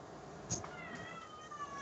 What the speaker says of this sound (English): That sounds like a mad cat.